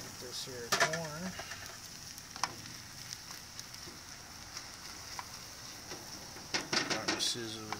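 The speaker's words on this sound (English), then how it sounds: "Got my sizzle there." Steady sizzle of pork steaks and vegetables cooking on a barbecue grill, faint and continuous, with brief clinks of utensils and someone talking over it at times.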